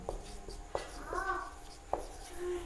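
A marker or chalk scrapes and taps across a classroom board while a question is written, with soft strokes and a few sharp taps under quiet talking.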